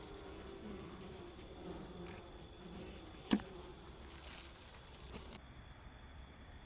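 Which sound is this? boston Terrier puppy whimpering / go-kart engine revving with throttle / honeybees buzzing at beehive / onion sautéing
honeybees buzzing at beehive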